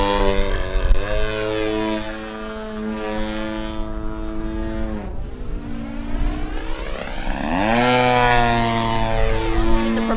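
A model aircraft's propeller engine whines loudly and steadily as it performs a suicide spin, its pitch dipping and rising in sweeping changes as the small plane maneuvers nearby.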